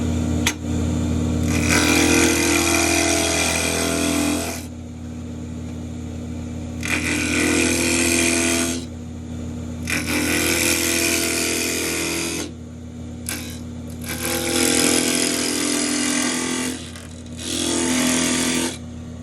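A power tool grinds into a wooden rattle blank in repeated loud bursts of a few seconds each, separated by short pauses where the motor hum drops, close and alone without talk.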